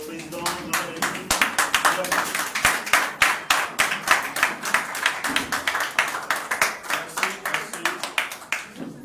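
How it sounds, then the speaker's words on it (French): A crowd claps steadily as a republic's president makes his entrance at a Gabonese presidential candidacy rally, dense rhythmic applause filling the room at a fairly close, loud level for the whole stretch. "si nous pouvons acclamer l'entrée de notre président de la République"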